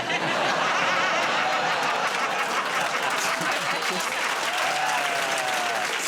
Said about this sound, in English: I'm just looking at who's clapping.